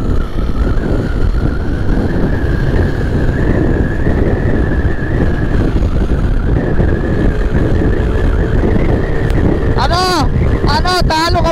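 Suzuki Raider 150 motorcycle racing a Honda Click scooter carrying a passenger, a loud sustained engine whine under heavy wind rush, with rising and falling revving toward the end and voices speaking over it.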